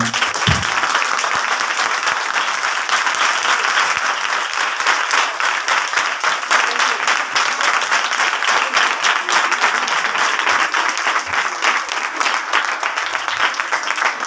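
A congregation at a church sermon in Lahore Cantt breaks into loud, sustained applause, a thick wall of clapping that holds steady from start to finish.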